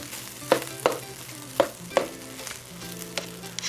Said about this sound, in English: I'm going to want to stir it to keep it from sticking to the bottom as much as possible